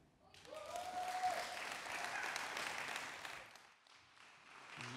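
Applause at a French digital-culture evening event, a full, steady burst of clapping from the audience that swells quickly, holds for a few seconds, then fades toward the end.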